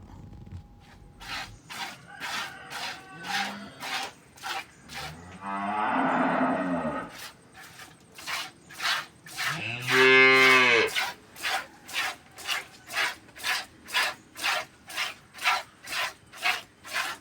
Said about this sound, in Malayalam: നമ്മുടെ നാട്ടിൽ സെറ്റായിട്ടുള്ള ഒരു എരുമയും ഒരു കുട്ടിയും